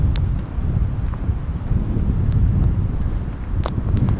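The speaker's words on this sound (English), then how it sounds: "It's getting blowy and cold and a little bit damp" Blowy outdoor wind buffets the microphone in a loud, continuous low rumble that swells and eases, with a few faint brief ticks above it and no talk.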